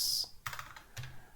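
Keys clatter on a computer keyboard in a few quick typing bursts, close and fairly quiet.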